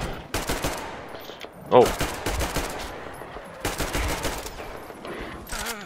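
Gunfire in the video game Metro Exodus: long, loud automatic bursts interrupted by pauses and a jam, with a man's brief exclamation over the shooting.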